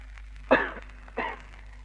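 A person in an audio drama coughs in smoky haze from a fire, with two rough throat-clearing coughs about half a second apart, close up over a quiet background.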